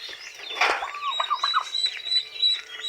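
Turkeys on a Filipino backyard farm, including a hen with ten newly hatched poults, gobble and call in a loud, overlapping chorus that peaks early and continues steadily throughout.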